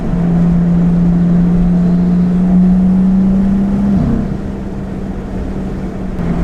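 BMW M2 fitted with a VRSF catless downpipe, its exhaust holding a loud, steady drone that rises slightly in pitch as revs build, then drops back to a lower idle-like hum after a brief rev change.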